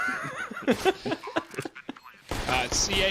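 Counter-Strike: Global Offensive gunfire during a pro match round, with quick headshots traded in a retake. Sharp shots sound in short clusters amid commentary and crowd noise, then a louder dense burst at the end.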